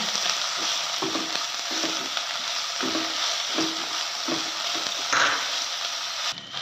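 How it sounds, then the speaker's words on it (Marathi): Onion, garlic and chili sauté in a pan with a steady broadband sizzle, punctuated by regular soft scrapes and stirs about every second, close and fairly loud, with no talking. "कांदा लसूण मिरची छान लहान होईस्तर चांगलं परतलं गेलं आहे"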